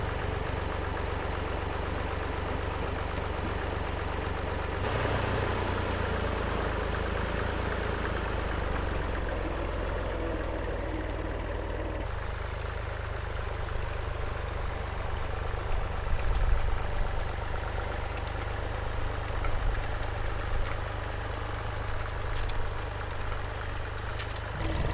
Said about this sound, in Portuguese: Então eu acoplei a enxada rotativa no trator para fazer esse teste.